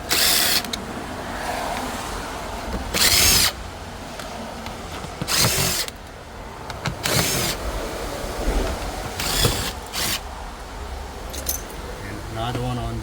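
Screws come out of the center dash of a 2021 Chevrolet Suburban, with several loud bursts of a power driver spinning out 7 mm screws between quieter handling clatter and creaks, and a voice talks intermittently.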